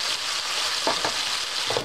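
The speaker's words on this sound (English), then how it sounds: "Just listen to that sizzle." Steady crackling sizzle of Asian spaghetti frying in a pan, close and continuous, with a few soft scraping stirs.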